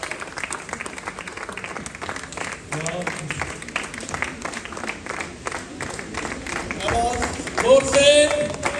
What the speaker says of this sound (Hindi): तालियों से इस्तकबाल